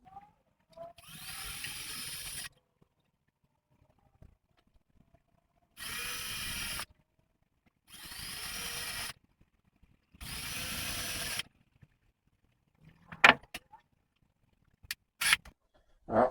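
A power drill boring a pilot hole for a tripod stand on a windmill build: four separate whirring bursts of a few seconds each with pauses between, close and loud, followed by a few sharp clicks and knocks.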